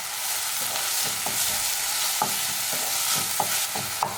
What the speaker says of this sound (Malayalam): ഇനി ഇഞ്ചിയും വെളുത്തുള്ളിയും ചെറിയുള്ളിയും ഒക്കെ നന്നായിട്ടൊന്ന് ഫ്രൈ ആയിട്ട് വരട്ടെ